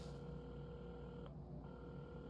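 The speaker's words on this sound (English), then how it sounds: "at the counter, Carmen had started dialing the phone." A telephone is dialed in the video game Assemble With Care, with a few faint dial tones and tones over a quiet café backdrop.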